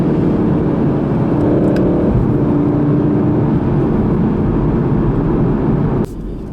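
A 2016 Volkswagen Golf R with a DSG gearbox drives on a village road, its engine a loud, steady drone from inside the cabin that shifts slightly partway through and drops in level near the end.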